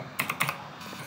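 Keys clack on a computer keyboard: a quick cluster of four or five sharp, close taps, then a couple of softer presses trailing off, with no voices.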